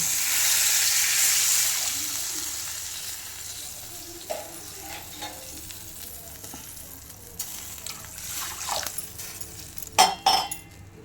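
Water hits a hot pan of frying spices for a Marathi sandge (dried lentil vadi) curry, letting out a loud hissing burst that fades over a couple of seconds into a softer sizzle, with a few spoon clinks against the pan near the end.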